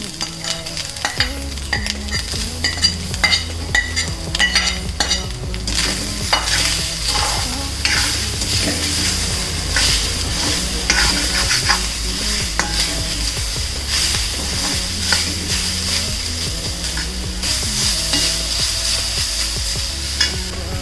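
Continuous frying in a pan with steady stirring and scraping, loud and close, sustained the whole time with no talking, just before banana goes in for a sweet snack.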